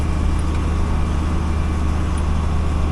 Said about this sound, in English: this is a PTO driven fertilizer spreader, and I got my fans running at the speed they need to be running